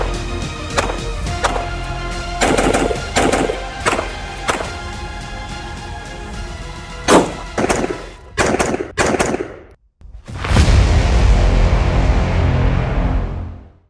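A Smith & Wesson 15-22 pistol fires at a shooting range: a run of sharp, loud shots in uneven bursts with short gaps, then a long, steady roar of broadband noise.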